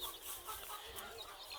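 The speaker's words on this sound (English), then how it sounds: "And there's a beautiful Samani hen." A Sumatra hen clucks softly in a backyard flock, a few faint quiet clucks over a second and a half with no talk.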